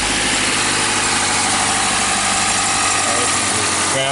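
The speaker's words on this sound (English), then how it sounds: "I'm going to start the vehicle." A Toyota Fielder with cylinder misfires and a rough idle runs steadily at idle, with a constant low engine drone and vibration throughout and a brief change right at the end.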